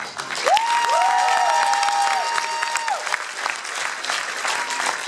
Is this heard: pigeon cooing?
no